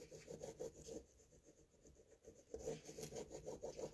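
Paper being rubbed for a big sunflower craft, a quiet scratchy back-and-forth rasping in two short bouts with a softer pause between them.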